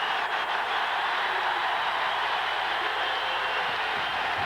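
A packed arena crowd roars through a 1988–89 Kentucky vs Tennessee college basketball game, a loud, continuous wall of noise with no break.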